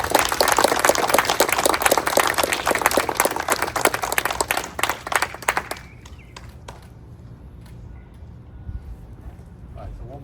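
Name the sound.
applause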